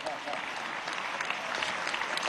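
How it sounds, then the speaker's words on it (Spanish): Steady applause from the audience at a plenary session of the Bicentennial Congress of the Peoples, dense and continuous at moderate volume for the whole stretch, with no voices heard. "Aplaude, Ernesto."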